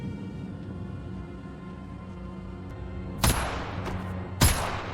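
Two sharp gunshots ring out in a film scene where prisoners are shot, the bursts about a second apart and rising over a steady low background rumble.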